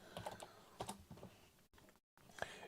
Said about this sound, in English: MG, why is the keyboard not working?